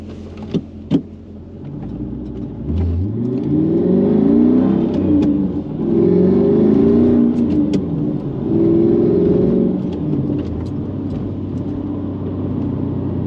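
Mercedes C55 AMG with a six-speed manual, engine revving while driving: three rising, swelling pulls of a deep growl, each easing off, over steady road rumble.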